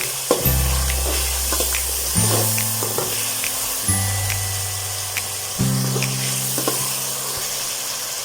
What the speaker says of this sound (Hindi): अदरक और लहसुन को डाला है और इसको 1 से 2 मिनट हमने फ्राई करना है।